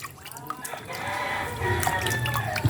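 Muddy sweet potatoes are washed in water: close splashing, sloshing and dripping as the tubers are rubbed and turned, steady and continuous, with faint voices in the background.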